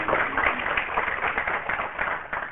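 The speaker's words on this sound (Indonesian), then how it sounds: "Tepuk tangan dulu untuk kebenaran yang luar biasa ini" Applause from a church congregation during a sermon, a dense continuous patter of clapping heard through a muffled, band-limited recording.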